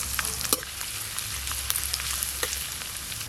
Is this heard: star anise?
yes